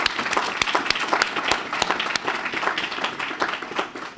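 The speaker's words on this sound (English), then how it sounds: "So let me give a round of applause." An audience at an early learning academy graduation ceremony gives a round of applause, a steady wash of many hands clapping with some distinct individual claps standing out throughout.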